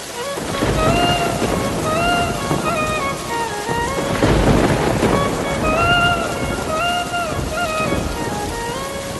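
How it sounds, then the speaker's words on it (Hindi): Heavy rain pours steadily while low thunder rumbles and swells in the background, with a few tonal sounds drifting over the downpour. "रात बीत जाती है और बारिश बहुत तेज हो जाती है।"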